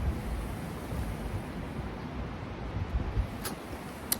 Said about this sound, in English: So it was super, super windy.